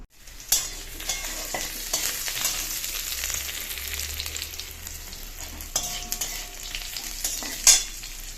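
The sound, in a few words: tempering dal with spices in hot oil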